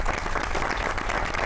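A studio audience on a TV comedy talk show gives a full, loud burst of applause welcoming a guest, a dense continuous wash of clapping with no talking.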